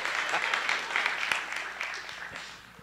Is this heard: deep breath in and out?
no